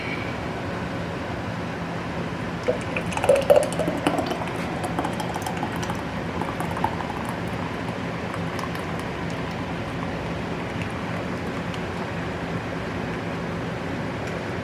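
Hot peach jam pours steadily into jars with a soft, continuous sloshing hiss and a few faint clinks near the start.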